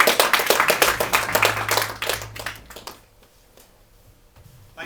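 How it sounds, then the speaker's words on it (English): A small audience at a maths and physics society talk claps, distinct individual claps in a brisk rhythm that thin out and stop after about three seconds, leaving near silence. "You can clap that if you want."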